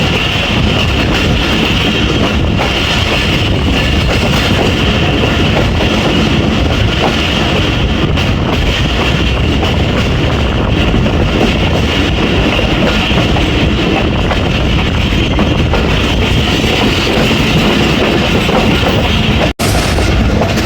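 Rahman Baba Express passenger train rolling on the rails between Attock City and Rawalpindi in hot summer weather, a steady loud rumble of wheels and carriage noise with wind buffeting, continuous throughout with no talk.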